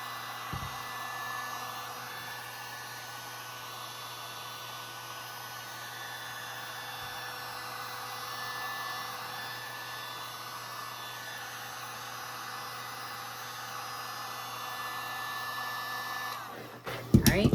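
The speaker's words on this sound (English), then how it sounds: "I take my heat gun, I heat up the side and the tape will come off super duper smooth like" Heat gun blowing on the edge of an acrylic pour painting to loosen tape, a steady airy whir running nearly unbroken throughout and ending in a brief clatter, with occasional speech.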